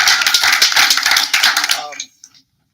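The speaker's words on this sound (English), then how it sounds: "Another round of applause for Blake." Dense audience applause for Blake at an academy session on using AI for content creation, a loud close patter of many hands that stops abruptly after about two seconds, leaving a few faint trailing claps.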